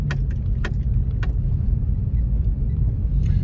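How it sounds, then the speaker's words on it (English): Eighteen-wheeler trucks driving through Pecos, Texas: a heavy, continuous low rumble of road traffic close by, with a few sharp metallic clicks and jangles over it. "like a whole bunch of 18 wheelers and stuff driving through"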